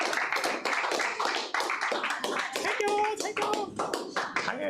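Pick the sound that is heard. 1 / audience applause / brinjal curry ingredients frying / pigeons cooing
audience applause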